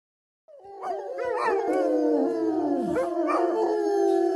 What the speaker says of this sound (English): all the dogs are howling